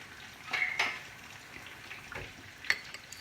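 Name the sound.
pouring saffron water over cooking rice in pot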